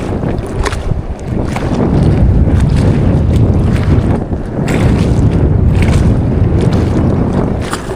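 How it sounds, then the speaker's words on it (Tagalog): Strong wind at sea buffets the microphone in loud, continuous gusts with a deep roaring rumble, briefly easing once before surging again, with no voices. "Lakas ng hangin oh."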